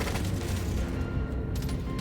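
Rapid bursts of rifle gunfire in the game Deep Rock Galactic: Survivor crackle densely for a couple of seconds, loud and close, with a brief dip in the middle before the shots resume.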